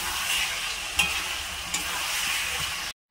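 Mutton being stirred in a pot with a pinch of garam masala, a steady close sizzling scrape with a couple of sharper knocks before it cuts to silence near the end.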